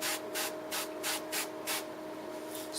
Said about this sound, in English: We'll spray it down with oil.